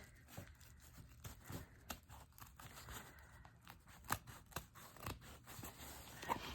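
Scissors cutting paper while decorating a travelers journal: quiet, close, irregular snips and crisp paper rustles at a slow, halting pace, with no speech.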